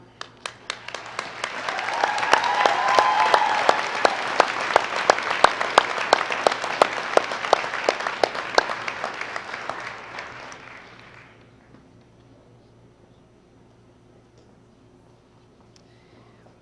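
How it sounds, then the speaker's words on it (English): A commencement audience applauds military service members at a university graduation ceremony, sustained clapping from a large crowd building quickly, holding steady for several seconds, then tapering off into a quiet hall. "Please stand in order for us to acknowledge your service with our applause."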